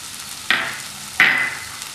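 Capsicum dropped into a hot pan for a Mumbai bread sandwich filling, giving two sharp sizzling bursts about a second apart, each flaring up loudly and then fading into a softer ongoing crackle.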